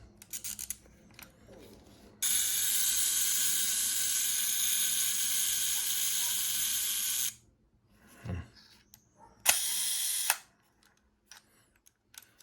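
A Fed 3 film camera's shutter mechanism is wound and released, giving a few mechanical clicks and ratcheting sounds around a long, steady hiss, with brief bursts near the end and no speech.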